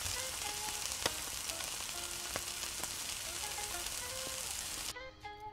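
Thinly sliced onions and chopped green chillies frying in hot tempering oil for a Telugu potato fry, with a steady close sizzle and scattered crackles and pops, then a brief stir near the end.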